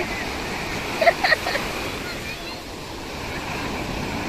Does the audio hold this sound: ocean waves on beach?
yes